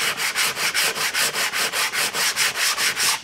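Hand-sanding epoxy-sealed plywood produces a loud, close, regular rasp, about fifteen even back-and-forth strokes in a steady rhythm, with no voices.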